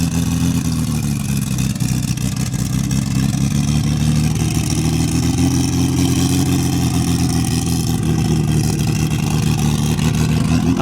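A car accelerating in the background at an outdoor Porsche exhibition by a château, a steady, loud engine drone with a slow rise in revs, continuous throughout and fairly distant.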